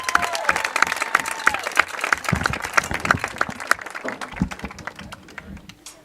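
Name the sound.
crowd applauding at football game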